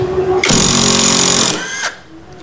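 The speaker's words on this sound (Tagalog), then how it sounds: "i-impact wrench natin to mga bossing para lumabas yung ating magneto" A burst of loud, dense mechanical rattling from an impact wrench breaking loose the magneto on a Yamaha NMAX scooter, lasting about a second and a half up close, then cutting off abruptly.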